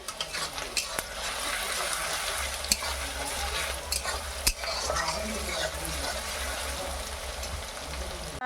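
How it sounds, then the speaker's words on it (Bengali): Onions sizzling in a pan of oil while being stirred, a continuous close frying hiss punctuated by sharp scraping clicks of the spatula, with no voices. "যে পেঁয়াজ ভাজা চলছে।"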